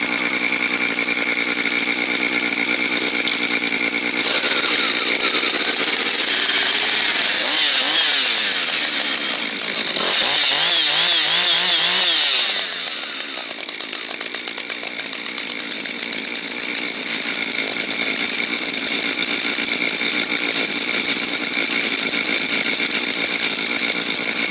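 A 2014 Jonsered 2260 chainsaw runs steadily with a loud, buzzy two-stroke whine, revving higher in the middle and then dropping back to a lower drone, close and continuous, with no voices.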